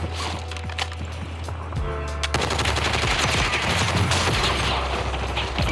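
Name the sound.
gunfire from the Warzone video game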